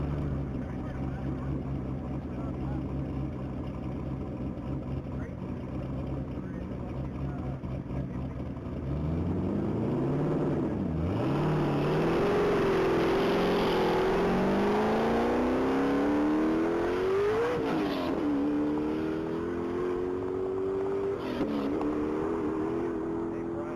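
A 2008 Chevrolet Camaro Z06 racing at a top-speed mile event, its engine note climbing through rising revs and gear changes as it grows louder, with a commentator talking over it.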